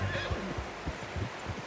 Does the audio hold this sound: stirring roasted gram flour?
no